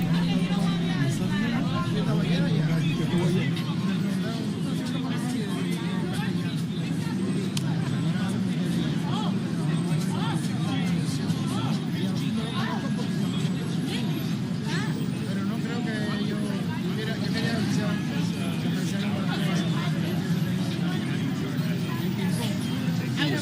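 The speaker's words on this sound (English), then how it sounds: "Looks like the crowd is getting bigger." A large crowd gathers on a city street around lunchtime, its steady outdoor hubbub of overlapping voices filling the air under passing traffic rumble, with a nearby voice speaking over it.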